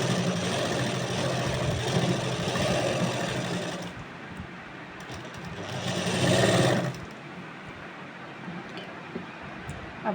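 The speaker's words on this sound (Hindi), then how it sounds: "हम वापस ऊपर की सिलाई लगाएंगे।" A sewing machine stitches a Rajasthani kanchli blouse, a loud steady buzzing run that drops off near four seconds, surges again briefly around six, then settles quiet.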